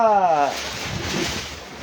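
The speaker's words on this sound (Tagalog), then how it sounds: "Mahangin dito." Steady wind rushing across the microphone outdoors, broad and blustery, following a brief tonal sound at the start.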